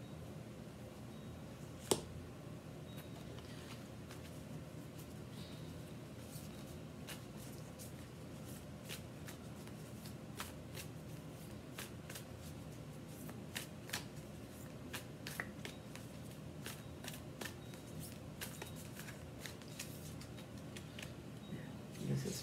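Tarot cards are shuffled faintly in a quiet room, with a steady soft riffling and a scatter of light ticks and snaps across the whole stretch.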